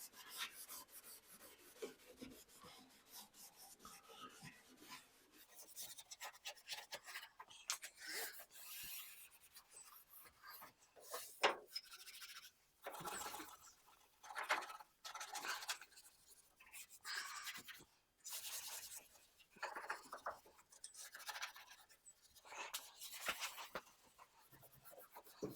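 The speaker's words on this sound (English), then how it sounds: "Just got to scuff it up a little bit." Scuff pad or sandpaper rubbing over old, long-exposed primer on a car body, a quiet rasping scrub in uneven bursts with short pauses between strokes.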